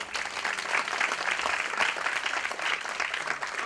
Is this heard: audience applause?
yes